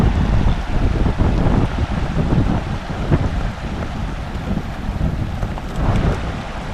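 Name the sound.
wind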